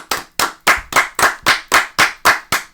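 Nine sharp, evenly spaced hand claps ring out close and loud, a steady rhythm of single claps with no voices.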